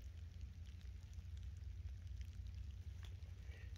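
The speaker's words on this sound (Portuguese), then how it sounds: "tá chovendo de novo, já" Steady rain falls on an orchard farm in a soft, continuous hiss with a low rumbling undertone, fairly quiet and unbroken, with no voices.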